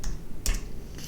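A short burst of computer keyboard typing, a few quiet, close clicks with one sharper keystroke, and no voices.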